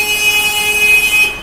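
Vehicle horns blare on a busy street in Rishikesh, India, with a loud sustained honk ringing over continuous traffic noise.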